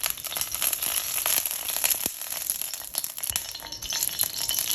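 Oil hits a preheated wok, a continuous crackling sizzle with irregular pops at moderate loudness and no talking.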